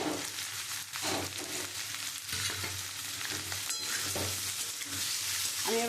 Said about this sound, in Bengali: আমি এবার খুব ভালো করে কষিয়ে নেব